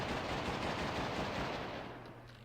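Sustained rapid automatic gunfire fired into the air in celebration in the video game GUN, a dense continuous burst that trails off slightly toward the end, with no voices.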